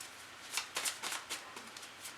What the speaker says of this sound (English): So now I'm gonna just shuffle